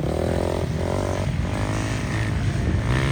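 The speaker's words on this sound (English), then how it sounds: "First time ever racing a 4-stroke." A small-bore 4-stroke dirt bike races around a track, its engine droning and revving loudly and steadily throughout, with pitch shifting as it accelerates.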